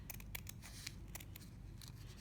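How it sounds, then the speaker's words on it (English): Scissors cutting along the edge of a paper template, a run of quiet crisp snips and slicing rasps in a soft, close, fairly faint stretch with no talking. "collect some scissors and cut along the edge of the paper"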